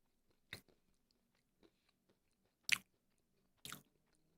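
Soft-ish sweet peanuts are chewed close to the mic, three distinct crunchy bites spaced apart, with faint small mouth clicks between them in an otherwise quiet room.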